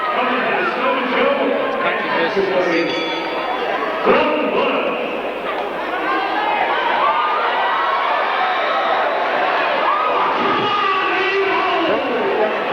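A boxing crowd cheers loudly and steadily throughout, a dense roar of voices and shouts backing the local fighter, with no break in the noise.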